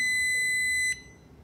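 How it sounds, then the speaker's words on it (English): A single sustained electronic beep as a Rouge tabletop red light therapy device switches on, loud and close, sounding for about a second and cutting off, leaving quiet background hum. "So you hear a beep when you turn it on."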